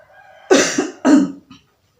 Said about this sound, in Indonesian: Maaf ya, saya batuk.